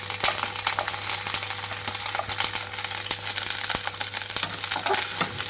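Chopped onion pieces dropped into hot oil on high flame, a loud, steady close sizzle with dense crackling and occasional sharp pops throughout, no speech.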